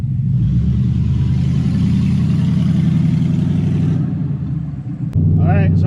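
An LS-swapped Camaro's V8 revs hard and steadily up close for about four seconds, then eases off and rises again as the car pulls away, with a brief voice at the end.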